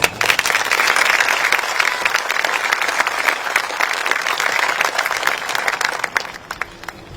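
Sustained applause from a high school commencement crowd, thick and loud for several seconds before thinning to a few scattered claps at the end.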